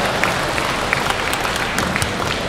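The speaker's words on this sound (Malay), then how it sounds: "mari sama-sama kita berikan tepukan kepada wanita UMNO di atas keterbukaan mereka" Steady, dense applause from an audience at an award ceremony honouring UMNO women, a sustained roar of clapping hands filling the room without pause.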